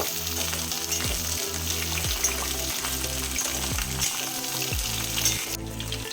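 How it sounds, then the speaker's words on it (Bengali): Oil sizzles and crackles steadily as pointed gourd and pumpkin fry in a pan, with occasional stirring scrapes, fairly quiet and continuous. "তেল গরম হলে কেটে রাখা পটল আর কেটে রাখা কুমড়ো দিয়ে দেব।"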